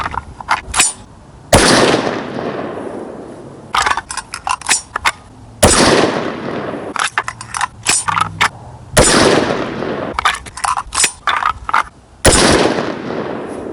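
Rifle shots from handloaded Hammer bullets with magnum primers: a string of loud, sharp cracks, each with a booming tail, spaced a second or two apart, plus a few quicker smaller bangs in between.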